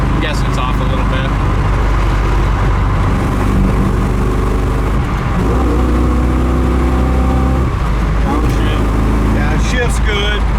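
A 1979 Camaro Z28 muscle car engine accelerates on the road with a deep, loud rumble that climbs in pitch, dips briefly at a gear change and builds again, with a voice talking over it.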